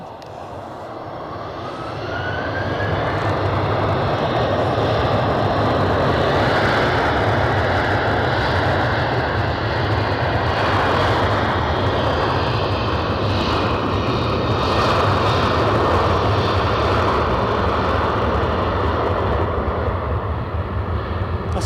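An aircraft at Edinburgh Airport, its engine roar swelling over the first seconds and then holding as a loud, steady, broadband drone.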